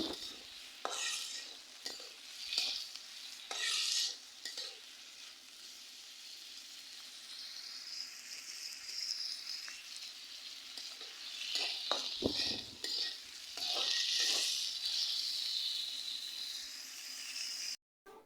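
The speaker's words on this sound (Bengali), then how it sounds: "আর এখন আমি দিয়ে দেবো কাঁচামরিচ, পেঁয়াজ। তো এখন এগুলো আমি ভালোভাবে একটু কষিয়ে নিয়ে তারপরে রান্না করব।" Green chillies and onions sauté in a pan over a clay stove with a soft, continuous sizzle, punctuated by intermittent scraping and clinking from stirring.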